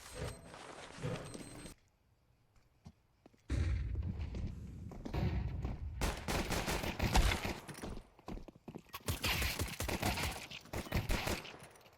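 Gunfire rattles through a tactical shooter match, with bursts of rifle shots and rapid automatic fire after a brief quiet stretch, loud and dense across the rest of the exchange.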